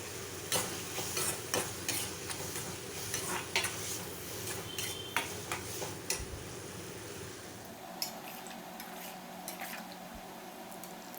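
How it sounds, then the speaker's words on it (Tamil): A spoon stirs pongal in a pan on a stove, scraping and squishing in irregular close strokes over a low sizzle, before the burner noise changes and the stirring gives way to quieter kitchen hum. "கலந்து விட்டு நல்லா சுருள கிண்டி விடணும்."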